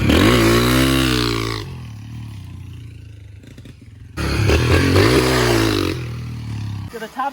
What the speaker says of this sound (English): I'm gonna launch in fifth gear.